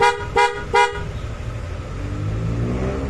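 Three short, loud honks from a Kymco Xciting S400i scooter horn in quick succession, evenly spaced, followed by a steady low idling engine rumble with no talking.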